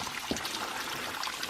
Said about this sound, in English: it sounds like there's a couple of waterfalls